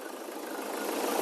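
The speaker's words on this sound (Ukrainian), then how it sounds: "Отак заводиться трактор. Ось така робота цього трактора." A SCOUT TB-904C tractor engine running after a cold start at minus 10 degrees, a brief steady mid-pitched mechanical drone that builds slightly in loudness, heard close with no voices.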